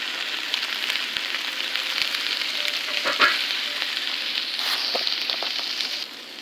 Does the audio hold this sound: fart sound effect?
no